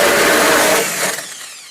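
A power drill bores into a door while a door handle passage set is installed, with a loud, close, gritty whine that fades and winds down after about a second.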